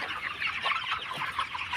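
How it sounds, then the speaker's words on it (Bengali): Chickens cluck on a livestock farm, a steady overlapping chorus of short, close-by calls running continuously through the stretch with no pauses. "মুরগি"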